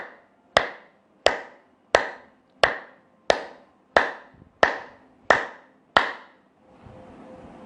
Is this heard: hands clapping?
yes